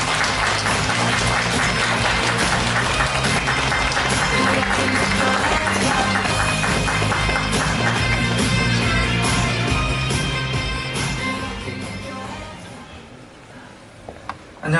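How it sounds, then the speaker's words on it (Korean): Audience applause at a corporate meetup event in Korea: a dense, sustained wash of clapping from a large crowd that holds steady for about ten seconds, then thins and fades away. "큰 박수 부탁드립니다."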